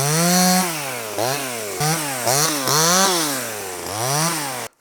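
A top-handle chainsaw runs loud and close for about five seconds, its engine revving up and dropping back repeatedly in uneven surges, with no talking.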